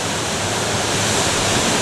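A loud, unbroken roar of falling water from High Force in the North Pennines, a 70-foot fall at low water level, close and constant throughout the short stretch.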